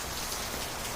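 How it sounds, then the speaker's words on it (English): Heavy rain falls outside in a continuous, uniform wash of drops hitting the ground, loud and unbroken throughout, with nobody speaking. "it's really raining outside"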